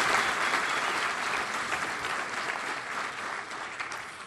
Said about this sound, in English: Applause for both the nominees,